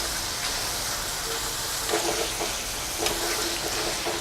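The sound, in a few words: potato wafers frying in oil and being turned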